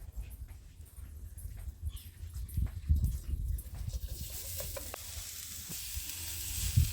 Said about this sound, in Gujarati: આપણે ગાજર જે કંઈ ખમણી છે એ આપણે લીધેલા તો એ આપણે ઘીમાં આપણે શેકી લઈશું